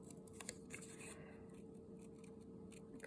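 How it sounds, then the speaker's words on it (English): Scissors fussy cutting around a shape in paper for a handmade Valentine card, giving soft snips and faint scraping strokes that come close and quiet over a steady low room hum. "It's pretty easy to fussy cut."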